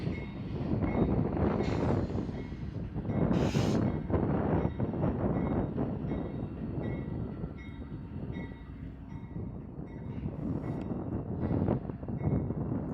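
BNSF freight train locomotives and cars rumble steadily past at the Roseville, California rail yard, close and loud, with wheel screeches and wind buffeting the microphone.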